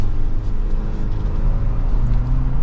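A 2024 Toyota Land Cruiser cruises along a road, its engine and tyre noise forming a steady, close low rumble with a smooth, even drone throughout.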